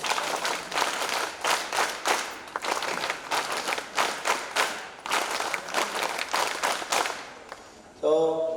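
An audience at a Women's Day event claps loudly in quick bursts, a dense run of applause pulses that repeats in rhythmic groups, ending with a brief musical tone.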